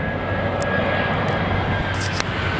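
An Aer Lingus airliner passing at Heathrow, a steady broad jet roar that holds evenly throughout without rising or fading, with no talk over it.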